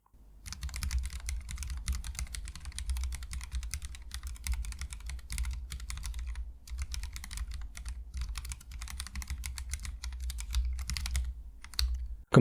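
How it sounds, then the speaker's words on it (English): Typing on a Charybdis wireless keyboard with Gator and Oil King switches mounted directly to the case, a steady rapid patter of deep keystrokes, close and continuous with brief pauses. "The Gator and Oil King switches work really well here with a deep and satisfying sound."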